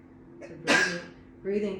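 A single sharp, close sneeze bursts out after a brief soft breath, between stretches of calm spoken instruction about breathing.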